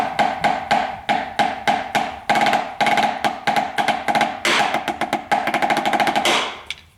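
Rapid drum strokes hit a practice pad resting on a marching bass drum, short dry taps in quick rhythmic patterns with a faint ringing tone, speeding into a fast roll near the end.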